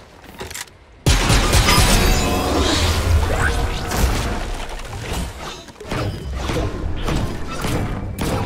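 Fortnite gameplay in which kinetic ore is launched with a Star Wars weapon: a sudden loud thud opens a dense, sustained stretch of whooshing, crashing game effects and layered impacts that keeps going to the end.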